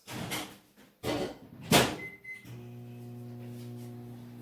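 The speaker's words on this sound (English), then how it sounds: "I'm going to go pop these little cubes in the microwave, 30-second intervals" A few door-like thumps and clatters, then a microwave starts up with a steady low electrical hum that continues while melting soap cubes.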